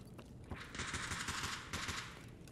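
Automatic weapon fire in Escape from Tarkov on the Factory map: a sustained rapid burst of shots, heard faint and distant, with a short pause partway through and no talking.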